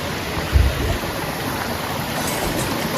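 Steady rushing water from the Damau Dhara waterfall fills the scene, a dense, continuous roar heard close and loud without pause.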